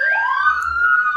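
A siren sound effect wails in one loud rising-and-falling sweep, sharp and clear with nothing else around it.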